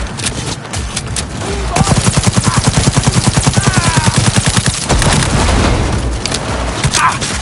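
Automatic gunfire rattles in the video game Cyberpunk 2077, a long loud rapid burst of close shots with booming impacts and a few scattered single blasts around it.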